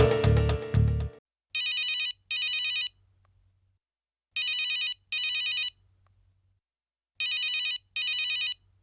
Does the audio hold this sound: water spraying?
no